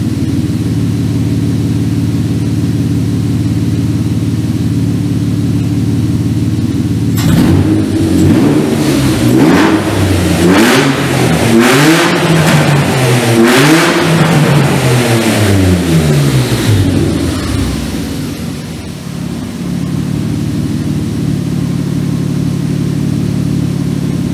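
A Renault R5 Maxi replica engine fires for its first start after a low steady hum, then revs loudly in repeated climbing and falling bursts for about ten seconds before settling back to a rough idle, close to the microphone, with no talk.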